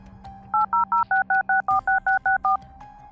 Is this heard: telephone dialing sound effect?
yes